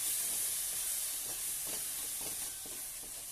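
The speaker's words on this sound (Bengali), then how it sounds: "মশলাটাকে আমি নাড়তে থাকবো।" Spice paste added to onions fried until reddish sizzles steadily in oil in a pan for a malai curry, while a spoon stirs it with soft periodic scrapes close by.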